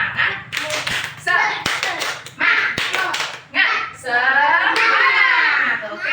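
Children clap together in a quick patterned rhythm, with bursts of sharp claps between young voices chanting and talking.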